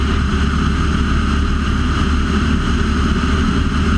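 Small single-engine training airplane's piston engine as power is added back in during an introductory flight, a loud steady drone with continuous wind rush filling the cabin, no voices.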